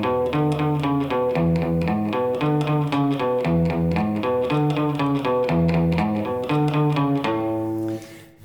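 Electric guitar chugs a steady run of low notes under the chorus of a song, following the bass line in even, driving strokes that stay loud throughout before the last chord rings out and fades.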